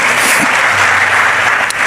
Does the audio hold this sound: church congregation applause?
yes